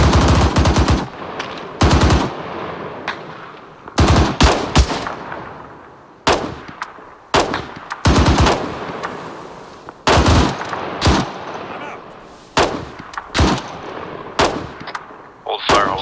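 Heavy automatic gunfire in the Arma 3 military game: loud bursts of machine-gun fire, sometimes a single shot, repeat in irregular volleys, each followed by a short echoing tail.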